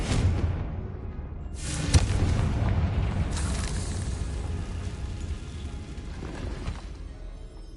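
The Confringo fire spell goes off in Hogwarts Legacy inside abandoned catacombs: a loud booming blast is followed by a long rumbling, crackling tail that slowly fades, with no talking.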